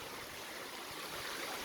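Stream water flows steadily near a waterfall in the hills of the Andhra agency area, a continuous, soft broadband rush with no voices.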